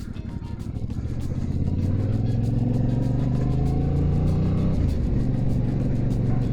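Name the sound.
Yamaha motorcycle engine starting and revving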